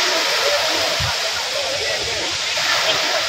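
Big sea waves surge around a small fishing boat in a continuous, loud, roaring wash of water, with a voice faintly underneath.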